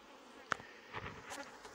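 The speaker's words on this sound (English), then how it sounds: "These is Africanized honeybees. This is not European honeybees." Africanized honeybees buzz at an apiary, scattered insect drones passing near and fading, faint against a quiet outdoor background with one sharp tick.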